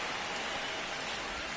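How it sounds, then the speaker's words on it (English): Steady rain hissing down during a baseball game in MLB 25, a dense broadband wash of falling drops with no talk, consistent throughout. "It feels like we might be headed towards a rain delay if the weather doesn't ease up, Chris."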